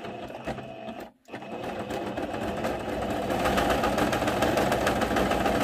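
A sewing machine stitches a decorative picot pattern along the edges of a fabric placemat. Its close, steady mechanical whirr pauses briefly near the start, then runs on continuously and a little louder, with no talk.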